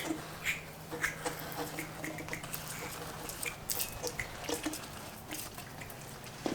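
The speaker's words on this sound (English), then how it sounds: "Now we give it a rinse." Water rinsing over an engine block in a kitchen, a soft irregular trickle with drips and splashes, close and fairly quiet, with no talk.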